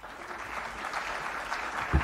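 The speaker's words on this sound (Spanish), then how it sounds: "Un cordial aplauso, por favor." Audience applause after the introduction of a speaker at a talk on Cervantes, a steady dense clapping from a seated crowd, moderately loud and continuous throughout.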